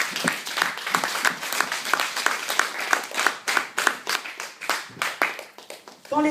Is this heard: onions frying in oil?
no